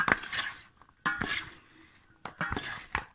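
A metal spoon scrapes and clinks against a pot while mixing sabudana khichdi with ground peanuts, in three short bursts with quiet pauses between them, close by and with no talking.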